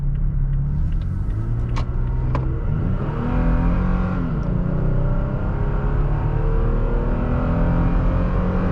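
A Toyota Tacoma TRD Sport truck in sport mode accelerates from a standstill toward 60, its engine droning loud and steady, rising in pitch, then dropping at a gear change before climbing again.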